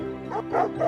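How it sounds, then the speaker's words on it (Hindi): Dogs chasing a jackal in an animated Hindi moral story let out two or three quick, yappy barks in about a second, close and fairly loud. "कुत्ते लगातार भौंक रहे थे और सियार का पीछा कर रहे थे।"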